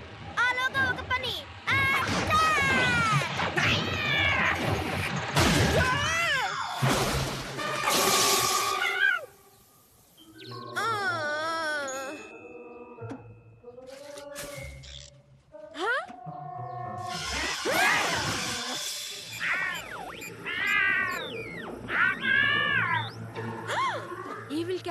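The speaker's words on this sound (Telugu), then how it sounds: "ఈవిల్ క్యాట్స్ ని పిలవడానికి ట్రై చేస్తున్నావా?" Cartoon cats meow and caterwaul repeatedly in a loud animated scene, with overlapping voices and music throughout and a brief lull near the middle.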